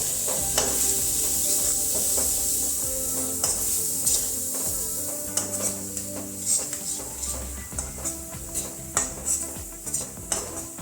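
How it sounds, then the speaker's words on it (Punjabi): Onions with gram flour roast in a pan on the stove: a steady sizzle runs under repeated scraping and stirring strokes of a spoon against the metal, close and busy throughout. "ਇੱਕ ਚਮਚ ਆਪਾਂ ਬੇਸਣ ਪਾ ਦਵਾਂਗੇ ਤੇ ਵੇਸਣ ਪਾ ਕੇ ਆਪਾਂ ਚੰਗੀ ਤਰ੍ਹਾਂ ਇਹਨੂੰ ਭੁੰਨਾਂਗੇ ਪਿਆਜ਼ਾਂ ਨੂੰ"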